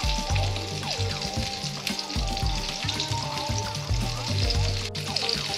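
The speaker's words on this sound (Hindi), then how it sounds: "इसको मीडियम फ्लेम पर ही फ्राई करें।" Chicken fries in hot oil over a medium flame for a crispy KFC-style fried chicken, giving a steady, close sizzle and crackle. Scattered clinks and spatters sit on top of it, and no one speaks.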